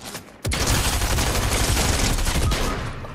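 A rapid volley of loud shotgun shots in the video game Fortnite, fired in quick succession after a brief quiet start, with dense, close gunfire lasting about three seconds.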